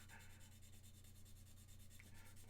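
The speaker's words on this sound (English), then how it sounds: "the sound of sanding. It sounds like work getting done" Sandpaper rubs back and forth along a seam line on a large 1/48 Gundam RX-78 plastic model kit, producing a faint, rhythmic scratchy rasp repeated in quick even strokes.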